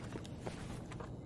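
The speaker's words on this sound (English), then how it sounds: "Oh, I hear footsteps." Footsteps in the Escape from Tarkov video game: faint, quick, evenly spaced steps tap along beneath a low background hiss.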